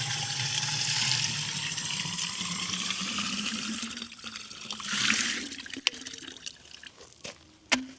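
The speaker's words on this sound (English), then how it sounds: "So hopefully we're back right here with running water in a minute." Water from a restored pump rushes and splashes steadily, then eases into a lighter trickle with a few sharp knocks near the end.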